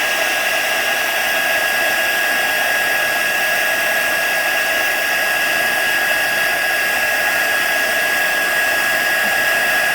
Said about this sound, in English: Since this heat tool was already warm, it's going to emboss a lot quicker for me on this.